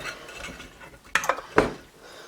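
Chunks of raw beef being scooped into glass canning jars for pantry storage, a few sharp clinks and scrapes of the scoop against the glass rim over a quiet, shuffling background.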